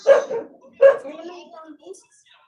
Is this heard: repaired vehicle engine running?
no